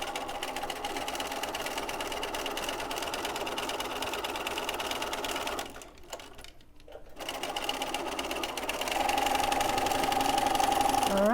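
A sewing machine stitches slowly through a plastic zipper in a steady mechanical whir, pauses briefly midway, then runs again slightly louder, close and alone.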